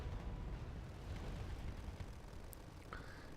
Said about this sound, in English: Su-24M dropping in more bombs.